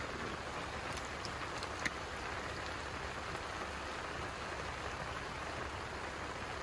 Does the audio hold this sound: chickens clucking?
no